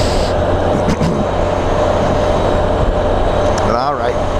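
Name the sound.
train running along tracks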